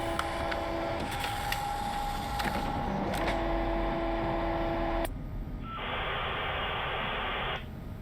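A printer in the video game Five Games at Freddy's gives off a loud, steady static-like whirring noise, with tonal hum and a sudden shift partway through, alone without talk.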